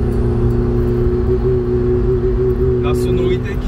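A naturally aspirated car engine idles with a steady low rumble and hum, close by, while a person speaks over it.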